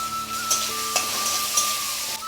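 Chopped tomato, turmeric, ginger paste and chilli masala are sautéed for a vegetarian ghugni, with a soft sizzle and a few sharp spoon scrapes against the pan over a sustained musical tone.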